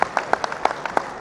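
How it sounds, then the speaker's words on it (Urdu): Audience at a traders' press conference on electricity loadshedding and overbilling applauds, a loose scattering of claps at an uneven rhythm, close and moderately loud, with faint room noise beneath. "تالیاں صحیح نہیں بجی ہیں، بھرپور تالیوں کے ساتھ بتائیں"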